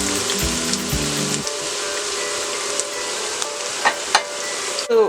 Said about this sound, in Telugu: ఆయిల్ వేడైన తర్వాత ఇలా కట్ చేసుకున్న ఆనియన్స్ వేసుకొని ఫ్రై చేసుకోవాలి.